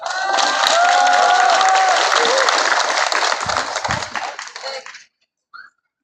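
Loud, dense applause and cheering from a crowd at a Korean labor solidarity rally, sustained for about five seconds before cutting off, with a brief clap after.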